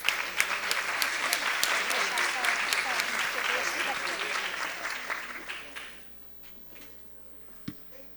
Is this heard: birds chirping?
no